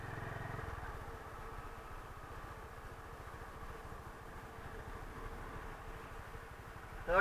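Honda CB350 motorcycle engine lugging in third gear at low speed, a steady low rumble with rapid pulsing beats running throughout, fairly close and alone, with a sharp rise in loudness right at the end.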